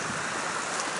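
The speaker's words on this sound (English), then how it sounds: "heading my way back to the sounds of the creek" A creek's flowing water makes a steady broadband rush, close and continuous, with no voices over it.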